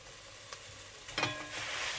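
Ground beef and onions browning in a non-stick casserole pan, a soft steady sizzle with a couple of brief clinks and a louder scrape of stirring near the middle, quiet and close.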